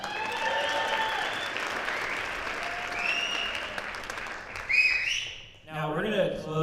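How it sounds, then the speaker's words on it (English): An audience applauds after trombone solos at a school jazz band concert, steady dense clapping that fades out near the end as a voice begins speaking over it. "One more round of applause for them."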